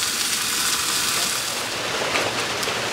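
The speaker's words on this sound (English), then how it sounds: "The rain just started." Steady rain pouring down around a covered porch where food cooks on a camp stove, a dense, even hiss of drops filling the whole stretch with no talk.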